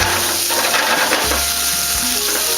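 Onion sautéing in a pan for tomato sauce, a steady close sizzle and fry with a few stirring scrapes and clinks.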